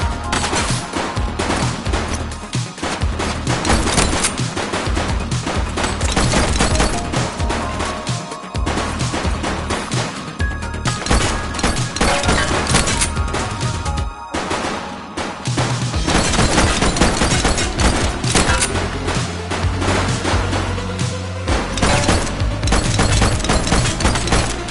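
Sustained rapid gunfire in The Precinct police game, dense bursts of automatic shots and crashing impacts running nearly nonstop, loud and close, with brief lulls before the barrage resumes.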